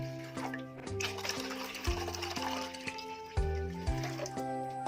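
Water is poured into a pot for a Cajun seafood boil, a steady close filling sound running under background music.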